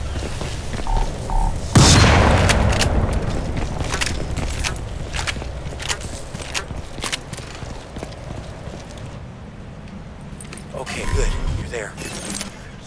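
A single heavy shotgun blast from the Crysis 2 video game booms out near the start, then trails off into quieter game ambience with scattered clanks and a softer thud later on.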